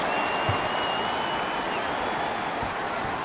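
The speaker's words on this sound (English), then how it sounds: "this home crowd is going crazy" A home basketball crowd in NBA Live 07 roars and applauds in a continuous, fairly loud wash of cheering, with no talking over it.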